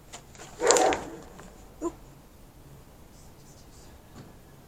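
A pet dog barks once loudly, then gives a short quieter yelp, heard fairly close outdoors against faint background hum, with a brief exclamation from a person.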